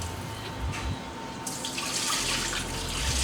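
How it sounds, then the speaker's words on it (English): Running water from a tap streams steadily over chicken being rinsed in a kitchen sink, a soft hiss that swells louder in the second half, close and with no talking. "And now I'm just rinsing it again."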